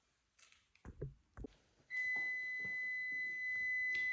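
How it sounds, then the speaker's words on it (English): An oven timer beeps for a batch of chocolate snickerdoodle cookies: after a few soft clatters, a steady, piercing high electronic tone sounds continuously, then pulses louder near the end. "Okay, there's our timer."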